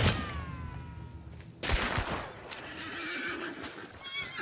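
A horse in the video game Hunt: Showdown whinnies loudly at the start, then a sharp thump and rustling gameplay sounds follow under a steady background wash.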